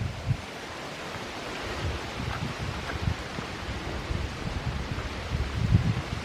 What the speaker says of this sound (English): Yep, the little creek is booking.